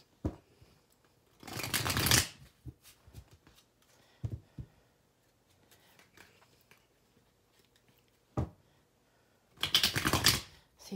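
Tarot cards being shuffled by hand, two long riffling bursts at start and end with a few short card taps between, close and fairly loud, no talk.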